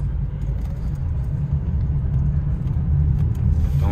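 A 2019 Chevrolet Prisma 1.0 Joy with an 80-horsepower engine drives along a road, a steady low cabin rumble of engine and tires that grows slightly louder.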